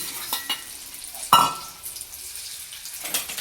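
Soybean chunks fry in a pan with oil, a soft continuous sizzle punctuated by a sharp utensil knock against the pan and occasional stirring scrapes, close and fairly quiet.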